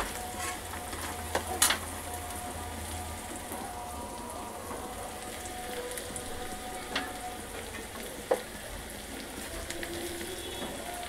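Potato bhaji frying and being stirred in a pan with coriander, a steady close sizzle with scattered soft scrapes and clinks of the spoon, no voices.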